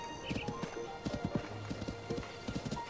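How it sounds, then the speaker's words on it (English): Horse hooves trotting in the video game Zelda Tears of the Kingdom, a steady, close clip-clop rhythm of soft thuds running throughout, with faint game ambience behind. "Oh, it feels great having a horse."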